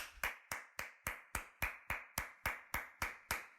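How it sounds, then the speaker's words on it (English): A single person clapping hands in an even, steady rhythm, about thirteen sharp close claps with no other sound between them. "Gotta clap it up for my Atlanta Braves"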